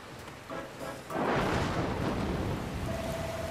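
Rain and thunder in the video game Dragon Quest Builders 2: quieter ambience gives way to a sudden loud rumble and a dense downpour that hisses steadily on, with no speech.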